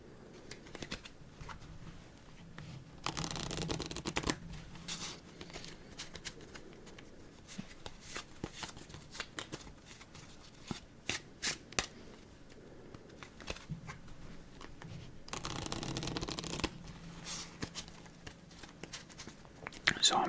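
Hanafuda playing cards handled during a game of solitaire give soft shuffling, sliding and tapping sounds, with a couple of longer riffling bursts, close and quiet.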